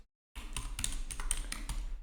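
Steady typing on a computer keyboard while writing Python code, with close, rapid clicking keystrokes in irregular bursts and no talking.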